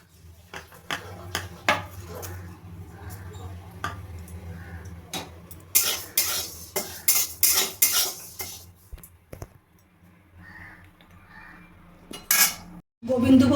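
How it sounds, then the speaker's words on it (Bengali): Gobindobhog rice being dry-fried and stirred in a kadai, with repeated metallic scrapes and clinks of a spatula against the pan in uneven bursts, loud and close, with pauses between. "গোবিন্দভোগ চালটা আমি একটু ভেজে নেব।"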